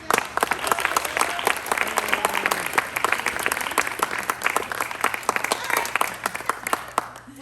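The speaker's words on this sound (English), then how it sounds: "please give them a round of applause for this" Audience at a playwriting showcase applauding two playwrights, close, brisk clapping from a modest crowd with distinct individual claps, with a voice faintly underneath.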